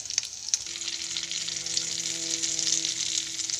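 Garlic frying in a pan for garlic fried rice gives a continuous bright, hissing sizzle with a couple of sharp pops near the start. No one speaks.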